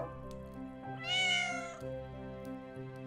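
In the video game Children of Silentown, a cat gives one clear, drawn-out meow over soft ambient game music.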